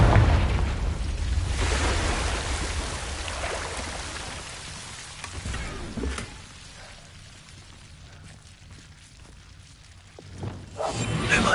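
Confringo fire spell blast in Hogwarts Legacy: a roaring, crackling burst at the start that fades into softer rumbles, with another whooshing flare near the end.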